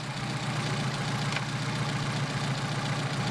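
A Mercedes 190SL with Solex PHH44 carburetors idles at about 750 RPM, a steady, even low engine drone held close and constant throughout with no talking.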